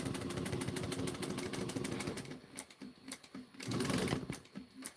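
A sewing machine stitching vinyl, a fast rapid-fire mechanical chatter that runs steadily, briefly eases and slows, then resumes, close and fairly quiet with no talk.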